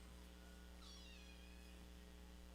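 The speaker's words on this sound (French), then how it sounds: "Ton chat, il a la voix la plus douce qui existe." A house cat gives one soft, gentle meow indoors. It is faint and sits over a steady electrical hum, with no talking.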